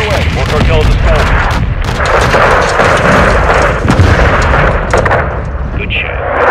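Missiles firing and explosions in the video game Call of Duty: Modern Warfare II, as a loud continuous barrage of booming blasts and gunfire that stays dense and heavy throughout.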